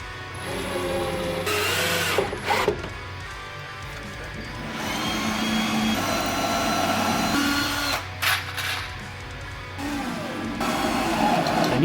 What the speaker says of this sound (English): I used my Dremel again to make a little dent for the head of the screws.